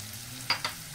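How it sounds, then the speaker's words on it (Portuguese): Garlic frying with onion in lard in a pan sizzles steadily, with two brief louder crackles or stirring scrapes over the constant hiss. "vamos fritar o nosso alho também"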